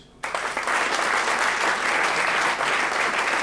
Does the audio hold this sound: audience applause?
yes